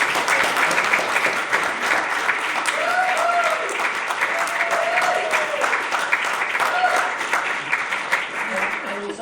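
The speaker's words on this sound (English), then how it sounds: "Please give them all another round of applause." A loud, continuous round of audience applause, with scattered cheers and whoops rising above the dense clapping, carries on for about nine seconds without letting up.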